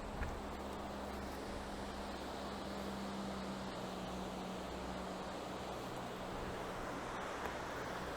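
Steady broadband roar of a rushing waterfall at Tallulah Gorge, heard from a viewpoint about 250 feet above the water, constant and unbroken with no talking.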